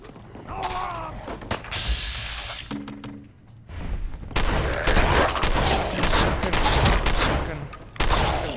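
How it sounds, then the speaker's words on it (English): Shotgun blasts in the Fallout 4 video game: several loud booming shots in quick succession alongside mechanical reload and weapon clicks, with game sound effects in between. "Shotgun."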